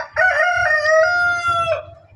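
A cockerel crows once, close and loud, a single drawn-out cock-a-doodle-doo lasting under two seconds with no other voices.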